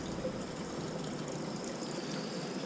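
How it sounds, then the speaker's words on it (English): Water leaks from a spigot on an autofill hookup with a soft, steady hiss and trickle, faint and continuous over a short stretch. "But when I turn it on, the spigot is leaking."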